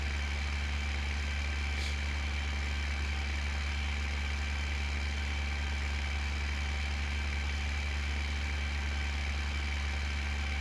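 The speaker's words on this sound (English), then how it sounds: "I don't think our tractor's gonna like this hill too much." A tractor engine idling in a farming simulator game, a constant low droning hum with a faint steady whine above it, unchanging for the whole stretch and with no talk.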